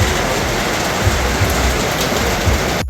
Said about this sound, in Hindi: कि जिस बारिश से दूर मैं भाग रहा था, वही बारिश अपने पीछे करते करते आओ नांग बीच भी पहुंच जाती है